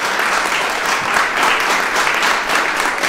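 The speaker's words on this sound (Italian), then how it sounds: "lo facciamo magari con un bel applauso" Steady applause from a crowd, dense clapping at an even level throughout.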